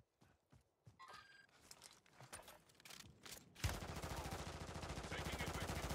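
Gunfire in Call of Duty: Warzone 2 begins as scattered shots and then becomes a dense, loud, rapid burst of automatic fire that continues to the end, heard alone without speech.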